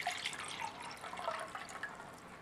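Water is poured to mix a drink from a Chinese PLA Type 13 field ration, making a soft, continuous trickle with small splashy bubbling, fairly quiet and steady with no talk.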